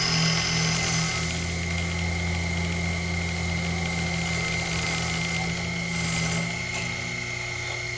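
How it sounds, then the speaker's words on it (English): Steady mechanical whine of a CNC machine drilling while making a fixture plate, with a constant low hum and high tonal bands running unbroken throughout, no voices. "I would like want better chips coming off that drill bit for sure"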